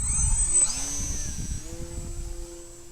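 A small RC model motor, run through an RM601 receiver, whines briefly with a rising then falling pitch in a quick throttle blip, fairly faint and alone.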